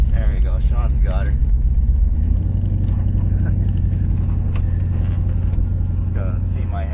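A car pulls away once the brake is released, its engine a steady low rumble beneath people talking throughout.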